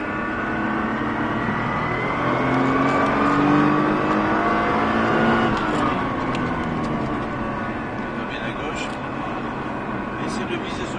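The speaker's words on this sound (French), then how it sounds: "j'accélère progressivement" A car on a race circuit during a driving course accelerates progressively, its engine note climbing steadily and loud throughout, with close interior road noise and brief clicks.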